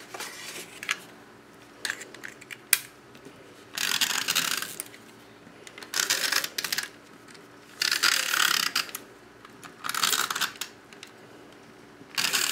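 A snail adhesive tape runner is drawn across a paper card in slow strokes, giving repeated ratcheting, clicking bursts of about a second each, close and clear, with short pauses between them.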